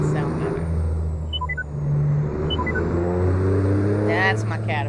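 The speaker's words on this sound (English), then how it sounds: "That's my Caterpillar engine right there." A truck in American Truck Simulator running a Caterpillar engine sound mod gives a steady, loud diesel drone with shifting engine tones and a brief hiss, while someone talks over it.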